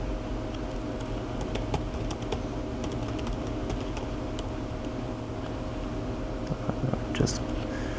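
Keys clatter on a computer keyboard in a steady stream of quick light taps, close and continuous, while a voice talks quietly over the typing.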